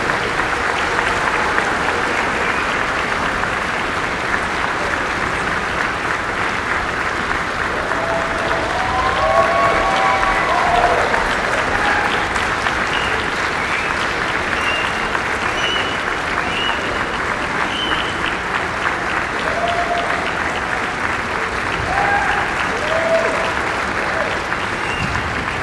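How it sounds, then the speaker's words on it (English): Sustained audience applause at a client appreciation dinner greeting former U.S. Senator Barbara Boxer, steady and dense throughout, with faint murmurs underneath. "Will you all please give a round of applause for former U.S."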